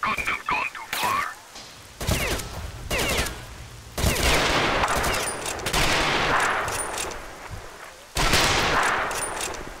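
Bursts of automatic gunfire from the shooter game STALKER: Shadow of Chernobyl rattle out in several loud, sharp volleys separated by short pauses, with a voice briefly audible between them.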